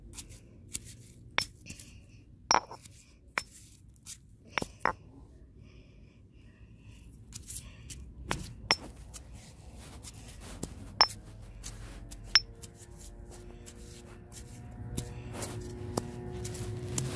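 Random plants crushed and smashed with a pestle in a mortar, giving irregular sharp clinks and knocks over a low grinding rumble, close and fairly quiet throughout.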